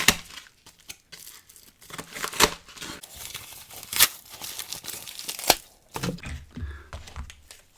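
A mail package is torn and cut open close up, with crinkling paper or plastic, sharp ripping bursts and scattered snips spread unevenly over about eight seconds, with no talk.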